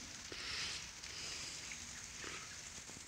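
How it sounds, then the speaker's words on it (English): Light rain falling beside a river in the Adirondacks, a faint, steady soft hiss with occasional small patters, without talking. "I always think the rain is a nice light rain like this is peaceful"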